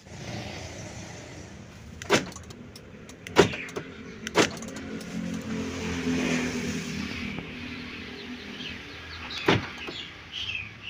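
Central locking on a Daihatsu Taruna, fitted with a new replacement module, is worked by remote: several sharp actuator clunks at irregular intervals over a quiet car interior and faint background hum.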